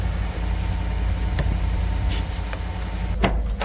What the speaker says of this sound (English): This is a high mileage truck. I'm always sensitive when I start it up.